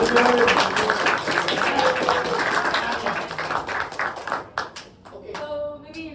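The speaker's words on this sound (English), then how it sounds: "Clap, clap." A small group at a presentation claps together for several seconds, then the clapping thins to a few scattered, sparse claps near the end.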